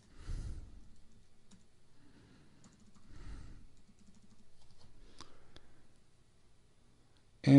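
Someone types on a computer keyboard while filling out a web form, with short clusters of quiet, close keystrokes separated by pauses and a louder bump at the very end.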